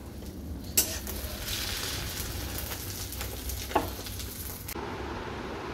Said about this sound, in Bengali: এখানে একটা ডিমের অমলেট ভেজে নিচ্ছি